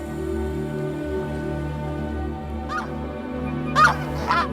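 Geese honk in flight, several calls breaking out near the end over a steady low drone, loudest in two bursts toward the close.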